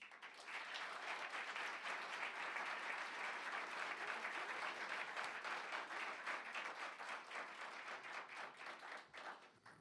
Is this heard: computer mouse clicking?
no